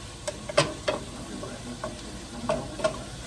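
Meat loin fat sizzles and renders in a pot for a Maine old-timer's soup, soft frying crackle punctuated by a handful of sharp pops and stirring clicks, close and fairly quiet with no talk.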